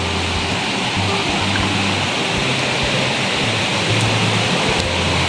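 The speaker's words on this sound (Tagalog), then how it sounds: "nandito na tayo sa sapa" A creek flows steadily in a dense, even rush of water with a low rumble underneath, constant and fairly loud with no voices.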